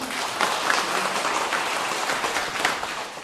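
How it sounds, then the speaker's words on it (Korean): An audience claps together during a Buddhist dharma talk on the Heart Sutra. The dense, steady applause is fairly close and runs through the whole stretch with no talking over it. "이해가 된 분만 박수 치보세요."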